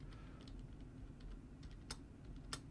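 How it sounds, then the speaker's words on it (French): Quiet typing on a computer keyboard while a message is written: soft, irregular key clicks with a couple of sharper taps, close and alone. "je tape mon message"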